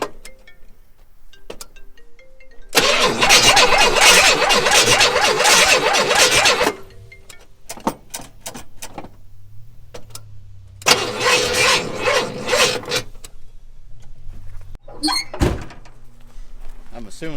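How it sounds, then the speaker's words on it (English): A junkyard Buick Turbo Riviera, boosted with a Gooloo jump starter, tries to start in two loud broadband bursts of about four and two seconds, separated by quieter clicks and knocks. "Turbo Riviera, fire up."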